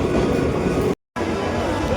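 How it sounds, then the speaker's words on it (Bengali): A train pulls into a railway station with a steady, loud rumble and rail noise. The sound cuts out briefly partway through, and voices are faintly mixed in. "ট্রেন ঢুকছে"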